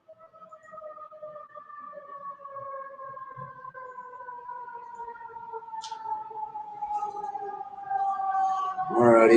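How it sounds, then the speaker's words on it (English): A siren wails outside with a long, slowly falling tone and strong harmonics, steady and fairly loud for the whole stretch, swelling louder at the end as a voice breaks in. "Oh, that fucking siren."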